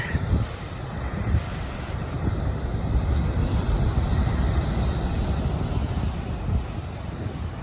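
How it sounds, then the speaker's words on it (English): Large, powerful ocean waves break on the Northern California coast, a continuous deep roaring surf mixed with gusty wind buffeting the microphone, loud and sustained with no voices. "these are monster waves here on the Northern Californian coast"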